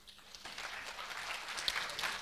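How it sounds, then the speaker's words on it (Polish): Audience applause after a film screening at a documentary festival Q&A, steady and moderately faint clapping from a seated crowd throughout, with no voices over it. "reżyser Filip Remunda, brawa."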